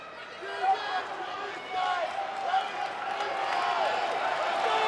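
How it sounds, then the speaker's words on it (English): A college wrestling crowd at a Big Ten dual meet cheers on a downed wrestler to get up, a steady swelling roar of voices in a large arena that grows toward the end, with broadcast commentary over it. "Crowd egging on Heilman to get up."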